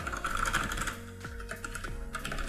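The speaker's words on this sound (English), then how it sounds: "The Razer BlackWidow Chroma V2 unboxed right there, and let's give it a try." Typing on a Razer BlackWidow Chroma V2 mechanical keyboard: a rapid, continuous stream of crisp, close clicky keystrokes, with a few louder thocks from heavier presses, and no voices.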